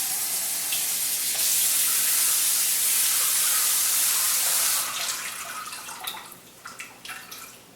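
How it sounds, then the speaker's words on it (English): Tap water runs steadily over rice in a bowl for several seconds, a loud close hiss, then stops and gives way to softer splashing and drips as the grains are swirled. "So I'm going to rinse the rice pretty well, maybe for 30 seconds or a minute."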